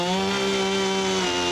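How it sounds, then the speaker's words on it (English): A chainsaw runs continuously while cutting wood for a bench, its loud, close, steady engine drone holding a constant pitch before dipping slightly near the end. "And here's Christiaan with a chainsaw."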